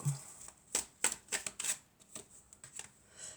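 Tarot cards being drawn and handled during a card reading make a series of soft, crisp taps and slides, irregular and close, with brief quiet gaps between them.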